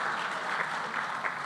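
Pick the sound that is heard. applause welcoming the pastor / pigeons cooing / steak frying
applause welcoming the pastor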